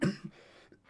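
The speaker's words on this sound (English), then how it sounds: "I apologise for the coughing, by the way." A single cough or throat-clear from a person watching a Euro 2020 football match, Italy versus Austria, comes close and fairly loud at the start, with a short rough burst at the end after a near-silent gap.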